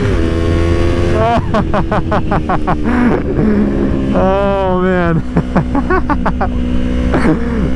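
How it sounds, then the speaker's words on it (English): A Yamaha R3 streetfighter motorcycle revs hard and climbs through gears during an acceleration test, loud and close, its exhaust rising in pitch with brief drops between shifts; a man exclaims briefly. "Oh god, that exhaust, it sounds so good."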